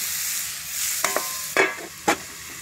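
Tomato masala fries in a pan with a steady low sizzle, broken by a few sharp scraping stirs of a spoon against the metal.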